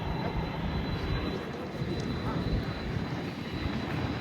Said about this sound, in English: down there we got the Delta 767-300ER heading back to Atlanta as Delta Airlines Flight 1882.